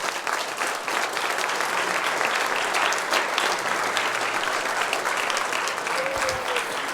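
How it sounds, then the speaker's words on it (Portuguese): A church congregation claps steadily in praise during a sermon, a dense, continuous roar of many hands filling the room without pause. "Vamos aplaudir o Senhor, irmão, porque Ele é poderoso, irmão."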